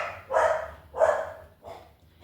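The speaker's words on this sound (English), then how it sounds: "excuse my dogs barking." Pet dogs barking indoors, three sharp barks in a row about half a second apart, the last one softer, fairly close and with no talk over them.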